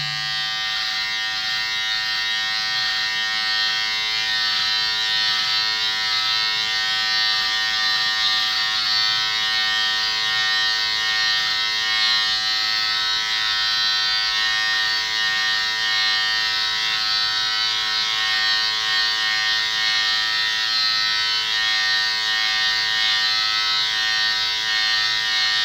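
Electric shaver trimming a mustache and beard, a steady high-pitched electric buzz that runs continuously and evenly at close range, with no talking.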